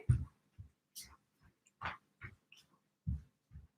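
A dog snuffles and breathes in short, quiet bursts, faint sniffs and whimpery noises spaced irregularly, close by.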